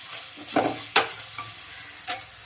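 Spices for a fish pickle fry in oil while being stirred, with a few distinct scraping strokes of the spoon against the pan over a gentle background sizzle.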